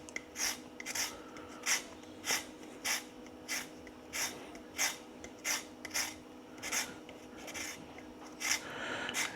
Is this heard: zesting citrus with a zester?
yes